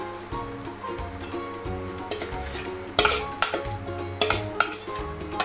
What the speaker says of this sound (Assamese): এইটো অলপ দেৰি লৰাই দিছোঁ।